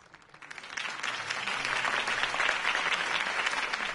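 Crowd applause from a political rally for Harvey Dent's mayoral campaign in the Batman Telltale Series video game, a steady wash of clapping that swells after a quiet start and stays loud and sustained throughout.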